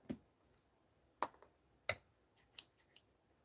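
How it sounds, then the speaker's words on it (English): Scissors crack and snap while cutting thick plastic, several sharp, quiet clicks spaced irregularly with a short cluster of crunches near the end, heard close up against a silent background. "It's cracking or my scissors are cracking."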